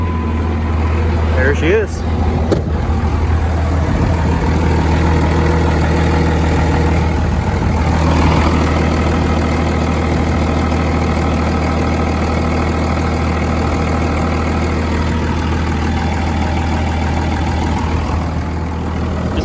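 A Cummins-style 24-valve diesel engine fires up and settles into a steady, loud idle after fuel-line work, its low rumble constant throughout with a brief spoken remark near the start.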